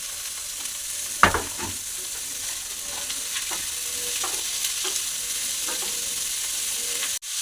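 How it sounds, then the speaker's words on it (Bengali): Chopped carrot and other vegetables fry with onion and curry leaves in a pan, a steady close sizzle broken by a few scrapes and clinks of stirring, with no talking. "সবজিটা হালকা করে ভেজে নিয়েছি"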